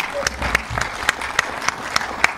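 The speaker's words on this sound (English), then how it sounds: "So big round of applause for our debaters." An audience claps for debaters at a heart valve society meeting, with sharp, evenly spaced claps close by, roughly three or four per second, and talk running underneath.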